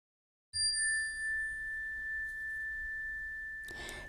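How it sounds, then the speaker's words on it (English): A single clear bell, struck once to close a walking meditation, rings out in quiet surroundings and its pure tone sustains and slowly fades for several seconds. "Repeat until the bell rings."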